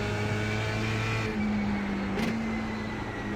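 Race car engine in the iRacing sim at Lime Rock Park, a steady harmonic drone that drops pitch on a gear change, then pulls again with rising revs out of the corner; close and loud, no talking.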